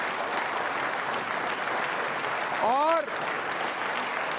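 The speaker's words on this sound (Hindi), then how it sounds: "तालियां अपने लिए बजाइए जोरदार तरीके से आप" Audience applause at a quiz show for state services trainee officers, steady clapping from a hall with a brief whistle-like tone midway and a short spoken word.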